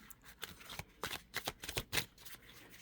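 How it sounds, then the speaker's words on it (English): Tarot cards shuffled by hand in a steady series of crisp riffling bursts, close and fairly quiet, with no voices over them. "I'm going to shuffle these really good"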